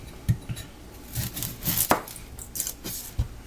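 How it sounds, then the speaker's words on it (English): A knife chops through an onion on a cutting board, producing a string of sharp, close knocks at an uneven pace, each with a crisp woody thud, and no talking over it. "we're going to chop up an onion"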